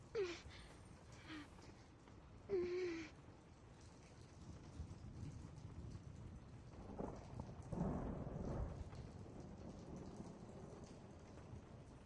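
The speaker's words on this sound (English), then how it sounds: "I really like the sound of rain in this game." Steady video game rain patters and hisses throughout, with a couple of brief low rumbles and scattered faint clicks; no voices, in The Walking Dead: Season Two.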